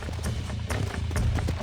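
Horse hooves clip-clop in Red Dead Redemption Remastered, a steady run of galloping hoofbeats over continuous low game rumble for under two seconds, with no talk.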